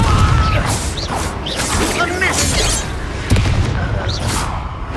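A Confringo explosion spell bursts in the Hogwarts Legacy video game amid dense combat noise, with booming, crashing impacts and a sharp blast near the end, loud and close over a busy battle din with voices.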